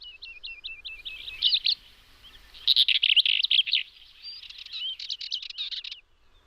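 A masked, sun-yellow songbird on the Iberian steppe sings a lively run of high, rapid chirps and trills in repeated bursts, close and clear against a quiet background.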